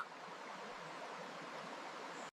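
A river in the Blue Mountains of Jamaica rushes steadily, a soft, even hiss of flowing water heard alone, cut off abruptly at the end.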